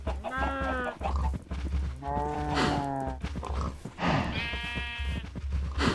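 Cows in a video game give three long, drawn-out bleating moos in a row, loud and close, each lasting about a second with short gaps between them over a low steady hum.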